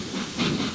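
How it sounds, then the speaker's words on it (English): A steam locomotive in a Roblox railway game gives a short, loud burst of puffing steam hiss, heard briefly and alone. ""Bye, little Edward," said Gordon as he puffed away."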